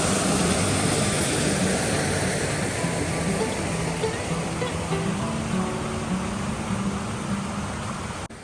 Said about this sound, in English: Seeing this beautiful little waterfall was an unexpected bonus.